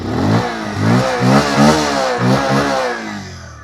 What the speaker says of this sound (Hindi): exhaust note,